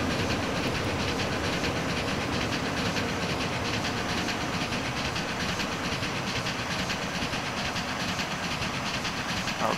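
Steady rolling train ride aboard a BBÖ 214 steam locomotive in Transport Fever, with continuous rail clatter and hiss filling the whole span at an even, close level, no voices.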